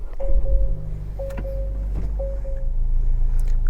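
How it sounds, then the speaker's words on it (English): A 2023 Acura Integra push-button start: three short electronic chimes sound inside the cabin, then a low engine rumble settles in and grows steadier, heard close with no talking. "Push button start."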